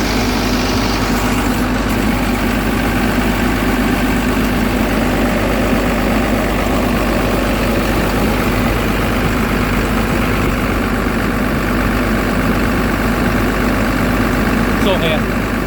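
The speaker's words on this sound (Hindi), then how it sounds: "अभी आगे अपन ऊपर आवाज़ बड़ा मुश्किल से आएगी, क्योंकि इंजन का साउंड बहुत है।" A vehicle engine idles steadily and loudly throughout, a dense, constant low rumble with slight vibration, running while its alternator is checked for a charging fault.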